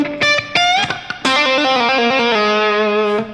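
An electric guitar solo, with distorted, effected sustained notes that slide and bend after a few sharp attacks, loud and alone in the mix.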